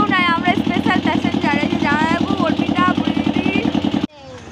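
A motorboat engine drones steadily on a river boat ride, its low rumble continuous beneath close conversation before cutting off abruptly near the end.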